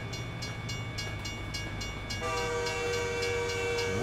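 A train rolls past in American Truck Simulator, a steady loud rumble of rail cars with clicking rhythm, joined halfway through by a sustained multi-tone train horn that holds to the end.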